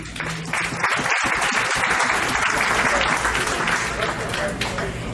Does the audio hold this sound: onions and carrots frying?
no